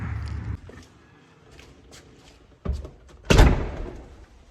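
A door closes in a large 5,000-square-foot countryside building with a solid thud, preceded by softer creaks and footsteps, then a loud slam that rings and decays; no talk over it.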